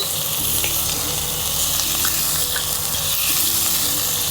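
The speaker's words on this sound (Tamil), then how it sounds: "இந்த புளிச்சக்கீரை நம்ம எண்ணெயில் வதக்கும் பொழுதே அது சூடானதுமே சுருங்கும் பொழுது பழுப்பு நிறத்தில் மாறும்." Gongura (sorrel) leaves sautéing in hot oil in a pan, a steady close sizzling and crackle with light stirring scrapes throughout, no talking.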